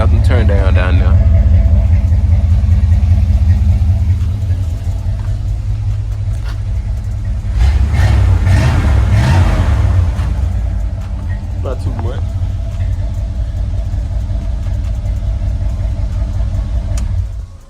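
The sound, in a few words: car with new exhaust revving and idling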